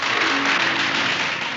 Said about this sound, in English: and wrap it all up in the warmth of applause.